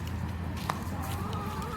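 Chickens cluck softly in a yard ahead of an approaching storm, faint scattered calls over a steady background hiss, no talk.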